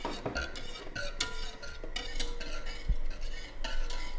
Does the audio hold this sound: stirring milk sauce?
yes